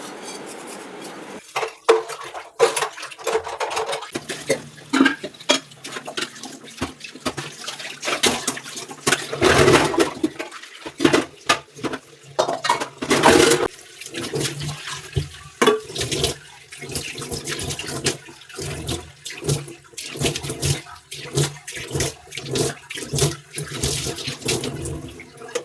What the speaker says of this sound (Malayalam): പാത്രം നമുക്ക് ഒരുമിച്ച് കഴുകിയാലോ?